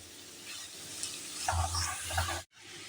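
Grated carrots for carrot halwa are stirred in a pan over low heat, giving soft scraping and a gentle sizzle for a few seconds before a brief cutoff.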